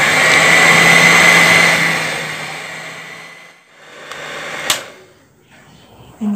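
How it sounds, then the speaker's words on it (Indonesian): An electric mixer runs at low speed through sponge cake batter for an old-fashioned Indonesian bolu, giving a steady, close whir for a few seconds before it cuts out, followed by faint clinks and handling noises. "setelah ini kita nyalakan mixnya"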